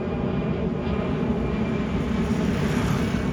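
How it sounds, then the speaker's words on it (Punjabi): A fixed-wing airplane flies low overhead near the airport in Guwahati, Assam: a loud, steady engine roar that fills the whole stretch without letting up. "ਏਅਰਪੋਰਟ ਜਿਹੜਾ ਨੇੜੇ ਹੋਣ ਕਰਕੇ ਜਹਾਜ਼ ਉੱਡਦੇ ਆ ਨੇੜੇ"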